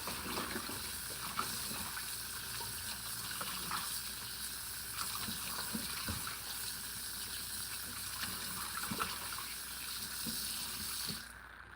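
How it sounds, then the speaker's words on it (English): Pork meat rinsed with salt and water under a running tap, a steady close gush of water with light splashing and handling that runs throughout, then cuts off at the end. "I just use salt and water to wash my pork."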